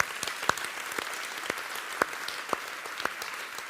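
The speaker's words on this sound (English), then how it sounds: "So please give them a warm round of applause." A corporate product launch audience gives a round of applause, a moderate, steady patter of many hands with a few sharper, louder claps standing out.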